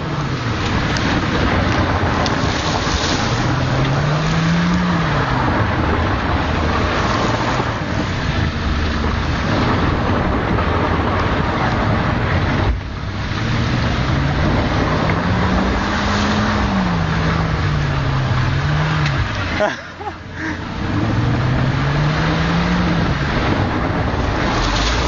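Vehicle engine revving as it drifts through mud, heard from the back of a boot: a loud, continuous roar with wind buffeting, rising and falling engine pitch in several surges, with a brief dip near the end.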